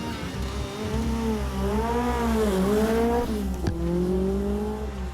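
A Peugeot Group B rally car races on a Corsican rally stage, its engine note climbing and falling through gear changes with a sharp crack midway, loud and close, no voices over it.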